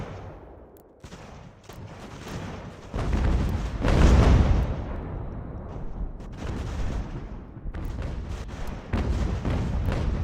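Cannons firing in Ultimate General: American Revolution, a dense barrage of overlapping booms and cracking shots, swelling to a heavy roar in the middle and continuing as a steady rumble of distant and close blasts.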